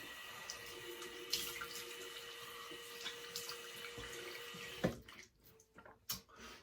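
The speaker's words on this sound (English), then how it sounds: "We're going to do a cold water rinse." Cold tap water runs steadily for a rinse during a shave, a close, even splashing stream that stops partway through, leaving a few scattered small knocks and drips.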